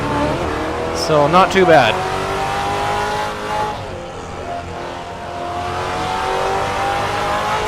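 Race car in Assetto Corsa on the LuccaRing track, its engine revving and pitching up and down with a rough jolt as it bounces over high curbs, under someone talking.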